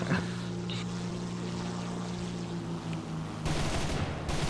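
In the War Thunder tank battle game, an airstrike hits nearby: a dense, continuous roar of explosions and gunfire rumbles throughout. A fresh, louder burst comes near the end.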